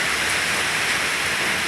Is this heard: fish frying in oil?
no